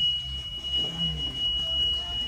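A bus's door alarm, triggered by the open back door, gives off a steady, unbroken high electronic tone that drones evenly for the whole stretch over low background rumble.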